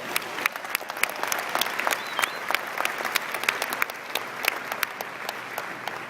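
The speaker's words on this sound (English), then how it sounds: "Please give them a huge round of applause." An audience at a Congressional Hispanic Caucus Institute evening event gives a hearty round of applause, dense steady clapping with sharp individual claps standing out, loud and continuous throughout.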